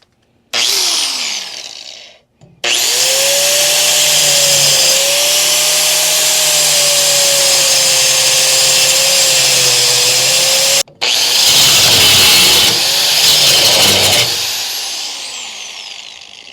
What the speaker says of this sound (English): when all else fails, we get the death wheel. And we're going to try and cut just the bolts.